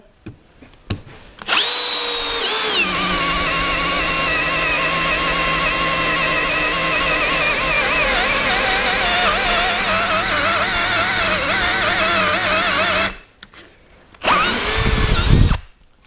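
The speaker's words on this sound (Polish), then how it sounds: "Słyszycie jakie dźwięki? Naprawdę to jest bardzo agresywne wiertło." A Bosch GSR 12V-35 Professional cordless drill-driver with an aggressive bit runs loud and close for about eleven seconds, whining and grinding steadily, stops briefly, then bursts on again for a short second run.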